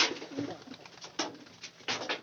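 A pigeon coos softly and close by, several low murmuring calls in uneven bursts against a quiet background.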